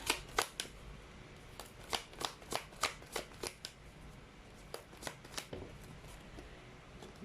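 Repeated crisp riffling bursts of playing cards being shuffled, a quick run of snaps followed by a second, softer series, close and fairly quiet.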